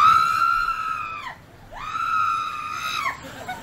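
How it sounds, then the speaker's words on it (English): A long, high-pitched scream rises and falls in two sustained bursts with a short break between them, loud and alone with no talking, heard during a run of funny clips. "What was that scream?"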